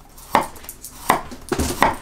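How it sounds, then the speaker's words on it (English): A knife slices through garlic cloves on a cutting board, four sharp crisp cuts at uneven intervals, close and clear, with no talking. "Let's slice up some garlic to make our chips."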